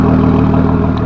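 A V12 Lamborghini with an aftermarket Akrapovic exhaust idles at a cars-and-coffee meet, giving a loud, close, steady low rumble with an even pulsing texture.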